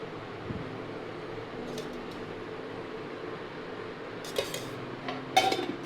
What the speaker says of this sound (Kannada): ತಳ ಹಿಡಿಬಾರ್ದು, ಆ ಥರ ಹಂಗೆ ಕೈ ಆಡ್ತಾ ಇರಬೇಕು.